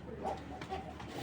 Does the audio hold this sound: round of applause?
no